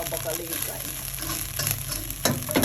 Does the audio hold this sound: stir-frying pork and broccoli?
yes